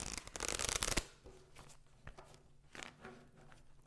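Tarot cards being shuffled and drawn, a dense riffling burst up close at the start, then quieter scattered card slides and taps as cards are laid out.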